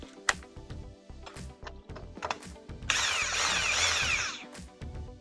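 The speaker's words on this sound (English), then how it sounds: "we're going to run it in with the impact and put a little pressure on it." An impact wrench drives bolts into a Kawasaki 650SX jet ski crankcase, one loud, close, buzzing hammering burst of about a second and a half after light clinks and tool handling.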